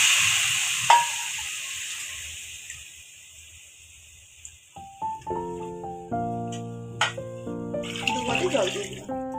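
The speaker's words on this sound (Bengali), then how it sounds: "জল দিয়ে দিলাম।" Water is poured into a pot of rice for egg pulao, a hissing splash at the start fading off, followed by clinking kitchen sounds and tonal ringing later.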